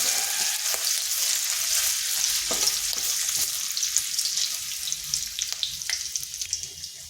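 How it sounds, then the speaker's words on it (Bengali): Ginger sizzling and frying in hot oil with cumin seeds, stirred now and then, a steady bright crackle at close range with soft scraping. "আদাটা একটু ভেজে নিচ্ছি যাতে তার কাঁচা গন্ধটা চলে যায়"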